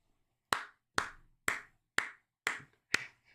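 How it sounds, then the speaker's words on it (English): Six single hand claps from one person, slow and evenly spaced about half a second apart, close and sharp, with silence between each. "I'm giving Doug some rounds of applause here."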